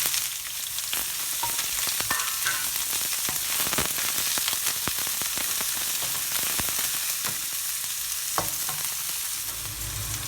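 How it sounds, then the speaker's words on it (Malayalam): Two sliced onions sauté in oil for chicken Chettinad, producing a loud, dense, continuous sizzle close by, with occasional stirring clicks and no voices. "2 സവാള ഇങ്ങനെ അരിഞ്ഞു വെച്ചിരിക്കുന്നത്, അതാദ്യം ചേർത്തൊന്ന് വഴറ്റിയെടുക്കണം."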